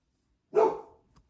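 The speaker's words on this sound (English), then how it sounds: "Sorry about the barking and stuff." A dog gives a single short bark nearby, loud and alone, against an otherwise quiet background.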